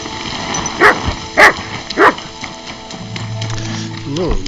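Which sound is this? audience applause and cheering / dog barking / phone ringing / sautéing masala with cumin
dog barking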